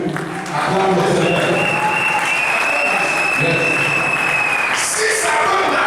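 A church congregation breaks into loud, sustained applause acclaiming Jesus, the clapping swelling quickly and continuing throughout, with a voice speaking faintly over it.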